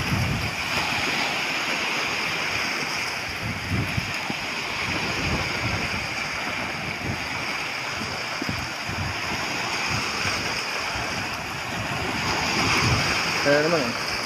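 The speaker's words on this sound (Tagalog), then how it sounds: "Lakas naman yung hangin tsaka yung amihan, oh." Strong northeast monsoon wind, the amihan, blowing at sea: a steady, loud broadband roar of wind buffeting the microphone over surf and wave noise, continuous throughout with gusty low rumbles.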